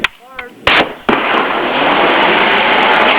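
Weapons fire from the 6 Days in Fallujah game trailer, set in urban combat in Fallujah: two sharp, loud reports ring out, then a dense, sustained roar of gunfire carries through to the end.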